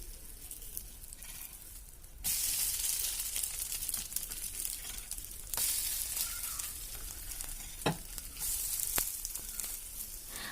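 Egg masala noodles frying and sizzling in a pan, a steady close hiss with louder bursts and scraping as they are stirred and turned, no talk.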